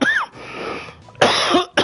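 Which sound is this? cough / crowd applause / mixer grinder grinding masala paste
cough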